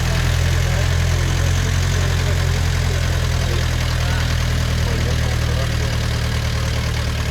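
An all-terrain vehicle engine grinding through a swamp, a loud, close, continuous rumbling drone with a knocking, heavy low end that holds steady throughout.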